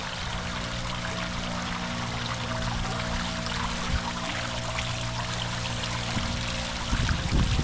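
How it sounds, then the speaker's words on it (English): A leaf blower runs nearby in a cemetery, a steady broadband whooshing roar that fills the whole stretch at constant level with no talk. "It would sound better if that guy would turn that blower off."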